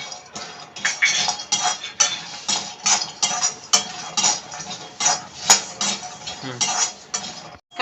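Steady rattling and scraping of hard nuts being stirred in a dry pan, continuous rhythmic clatter up close, without any talking.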